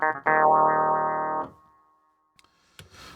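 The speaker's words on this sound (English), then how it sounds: "or we can use the expression pedal for a while, which I kind of like. And that kind of sounds like this." A Hammond SK Pro plays a clavinet voice through a pedal-controlled wah, two short funky chord stabs, the second held and swept in tone before cutting off into near silence.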